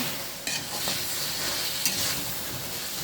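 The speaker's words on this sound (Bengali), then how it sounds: "দিয়ে এই দুইটা একটু ভালো করে আগে কষাই নেব।" Beans and potatoes stir-fried in spice paste in a karahi with oil, a steady soft sizzle with occasional scraping stirs of a spoon against the pan, no talk.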